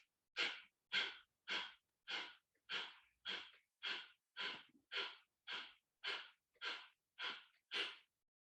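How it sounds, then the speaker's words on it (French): Deep abdominal breathing during a qigong exercise for the kidneys: fourteen evenly spaced, close, breathy exhalations in a slow, regular rhythm, each with a sharp start and a fading tail, separated by near-silence. "Donc, on essaye de faire cette respiration un petit moment."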